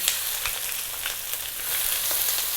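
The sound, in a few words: onion and curry leaves frying in hot oil for fish curry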